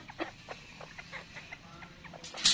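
A mottled Japanese chabo bantam hen clucking on a farm, a run of soft, evenly spaced close clucks ending in a louder squawk.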